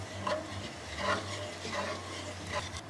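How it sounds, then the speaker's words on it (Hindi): Cooked masala being stirred into dal, with soft, intermittent scraping strokes every second or so, quiet against a low steady hum. "अब हम इस मसाले को इस दाल के अंदर डाल देंगे और दाल को अच्छी तरह से मिक्स कर"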